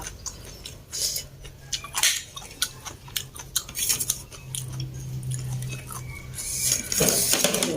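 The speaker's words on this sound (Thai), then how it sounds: "ขออนุญาตเก็บจานจ้า" Plates and dishes clink and clatter as they are gathered and stacked at a Thai street food stall selling spicy pla ra salad, a run of sharp irregular knocks that ends in a louder burst of clattering.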